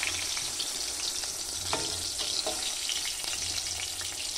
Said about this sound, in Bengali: এটা হচ্ছে বেগুনের, বেগুনের চাক ভাজি বলে, বেগুন চাক